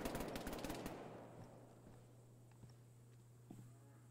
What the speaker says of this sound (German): Links neben mir zwei Schüsse. Die ballern sich aber gegenseitig ab gerade.